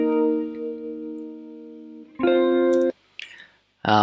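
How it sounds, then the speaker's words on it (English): Guitar notes run through a tape echo effect on a chilled, melancholy song, sustained tones with repeating echoes and reverb tails, a held passage followed by short bursts and a loud final strum. "that's why it's got this tape echo on it"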